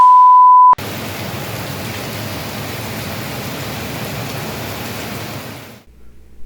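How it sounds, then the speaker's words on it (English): Heavy rain downpour on a roadside along the Natchez Trace, a dense steady hiss of pouring rain starting abruptly after a brief gap and holding loud and constant until it cuts off near the end. "the skies opened up and the rain was here to stay."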